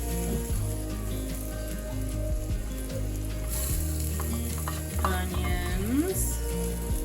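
A burger patty sizzles loudly on a hot diner-style griddle while patty melts are cooked, a continuous close frying hiss with occasional scrapes and clinks of a spatula.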